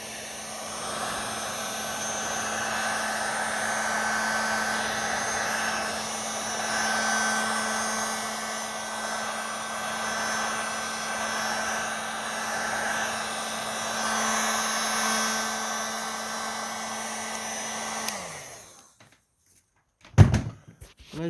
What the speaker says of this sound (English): after just a couple of passes with the heat gun, gone